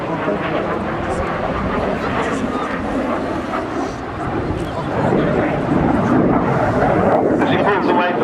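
Aircraft flying a wide, lazy barrel roll at the RAF Cosford air show, a continuous engine roar that swells louder toward the end, heard under a commentator's voice.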